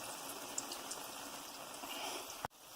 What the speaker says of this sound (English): it's going to continue to sizzle for a little bit on residual heat